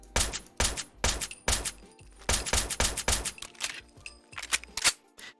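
Suppressed Automag pistol in Fallout 4, a rapid series of about a dozen sharp, snappy muffled shots in uneven bursts, close and clear with no talking.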